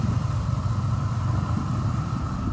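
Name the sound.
pickup truck engine idling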